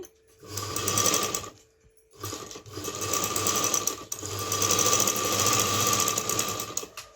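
A sewing machine stitches piping onto a blouse, running in three bursts of rapid, steady mechanical whirring close by, with short pauses between runs.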